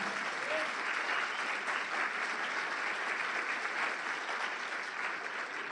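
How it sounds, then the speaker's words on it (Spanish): Steady, even applause from a church congregation at a Christian conference, a sustained wash of many hands clapping at moderate distance with no voices standing out. "Dale un fuerte aplauso al Señor."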